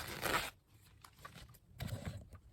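A zipper on a patio chair cushion is pulled open in two quick close rasping strokes, the first louder, with a pause between.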